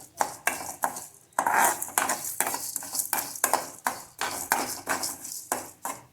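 Curry leaves roasting in a pan, a metal spoon scraping and clinking against it in a quick, irregular rhythm over a soft sizzle, close by with no talking.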